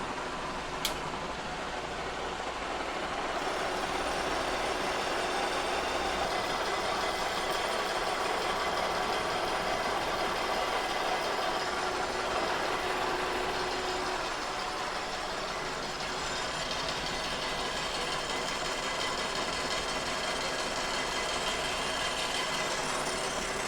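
Kearney & Trecker horizontal mill machining a cast iron straight edge at 336 RPM and 9 3/4 inches per minute, a steady loud broadband grinding and whirring hum that continues unbroken throughout, with no talking.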